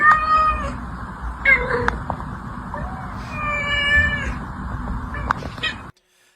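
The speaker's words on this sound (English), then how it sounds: "Those are some really sweet meows." A cat meows repeatedly, clear and close, a series of sweet rising calls spaced across the moment with short pauses between them.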